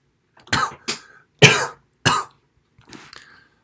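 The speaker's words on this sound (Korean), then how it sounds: "갑자기 기침이 나네." Several sharp coughs in a row, close and fairly loud, followed by a softer throat-clearing cough.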